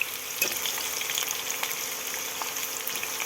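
Chopped onion, a very large one, hits a hot pan as fish heads and spinach ghonto is cooked, giving a steady, close crackling sizzle with a few sharper pops throughout.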